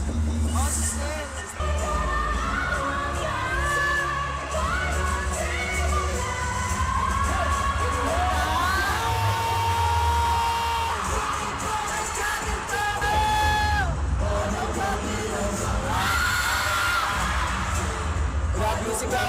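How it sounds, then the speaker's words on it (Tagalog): At a concert, a large crowd screams and cheers continuously, loud and close, with shrill voices rising in waves over music and no clear talk. "Grabe yung sigawan!"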